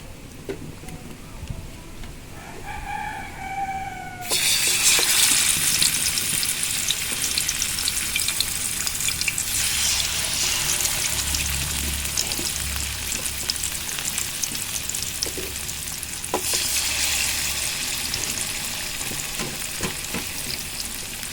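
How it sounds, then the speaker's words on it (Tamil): Fish dropped into hot oil in a pan for a South Indian fish fry, bursting into a loud, steady sizzle that continues with spattering crackles throughout, following a few quiet kitchen clinks before it starts. "ஃபிஷ் அணி பொரிக்க போறேன் காய்ஸ். ஃபிஷ் பொரிக்கலாமா?"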